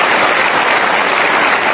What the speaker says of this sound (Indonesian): Boleh tepuk tangan untuk periode kedua.